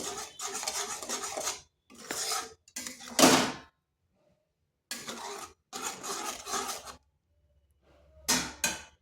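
Ripe banana and sugar being mixed in a pan for a milk sweet, heard as close, rough scraping strokes in several bursts separated by short silent pauses, no voices.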